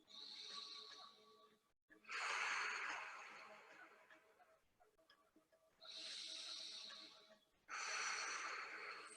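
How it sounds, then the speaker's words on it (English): Deep, audible breaths during a guided breathwork session: several long, loud inhales and exhales alone, with each noisy rush of air lasting a couple of seconds and separated by brief pauses. "Few more breaths like this in silence, just breathing in, tummy expands, breathing out, letting go."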